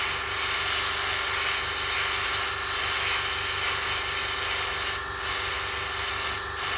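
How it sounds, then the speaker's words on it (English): An airbrush pushes a steady stream of air to dry a layer of acrylic paint, giving a continuous soft hiss with a few brief stronger bursts, close by and with no voices. "just pushing air through the airbrush just to dry it off a little bit"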